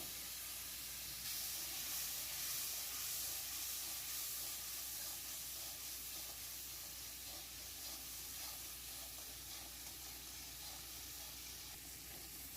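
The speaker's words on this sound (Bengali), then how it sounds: "মশলাটা ভালো করে কষার জন্য দিয়ে দিচ্ছি অল্প জল" Spice paste sizzles and hisses steadily in hot oil after a little water is added while cooking lau chingri, bottle gourd with prawns, a loud and continuous frying noise with no talking.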